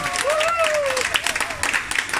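Audience applause at a corporate event welcoming a senior vice president onstage, steady clapping filling the room, with a host's voice and cheering riding over it.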